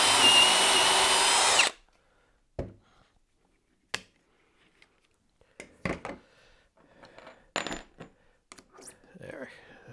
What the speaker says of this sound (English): once I get the first hole drilled, the rest will be easy because I can just align with the doweling jig